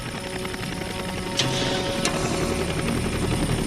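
Vietnam War helicopter answering a medical call over a minefield, 1969, heard as a continuous muffled rotor drone with a couple of sharp bangs or clatters partway through, fairly close and steady.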